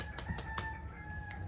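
A rooster crows in the distance, with a few short faint bursts over a steady background hum and no speech.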